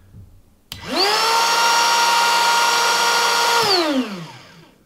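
A repaired Ryobi 18-volt power tool switched on with a sharp click, winding up to a steady, even high-pitched whine for about three seconds, then spinning down smoothly.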